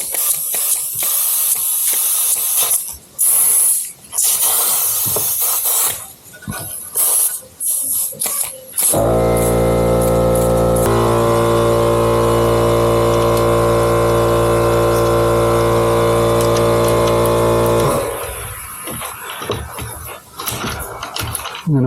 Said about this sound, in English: Let's pump up this tire as well.